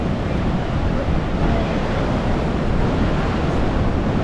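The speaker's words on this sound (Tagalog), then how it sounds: "Lakas ng hangin." Strong wind gusts over the surf at Imperial Beach, California, with steady broadband rushing noise and crashing waves filling the whole stretch without pause; no talking.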